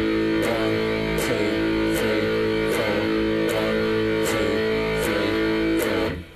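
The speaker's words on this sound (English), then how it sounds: "I'll just play a bar of quarter notes and count through." Steady guitar strums land on an even four-to-the-bar pulse: a bar of quarter notes, each marked by a crisp attack over ringing, sustained tone. Moderately loud, with no voices.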